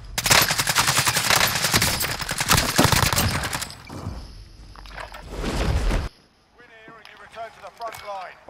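Rapid bursts of video game gunfire and rocket shots crackle loudly for several seconds, then thin out into scattered shots as players talk and shout excitedly over the action.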